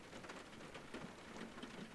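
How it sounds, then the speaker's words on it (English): Steady rain patters and hisses continuously, a dense even wash of drops with no voices. "the rain just became too much for her"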